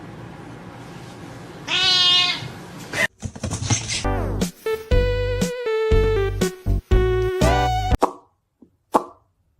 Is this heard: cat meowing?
yes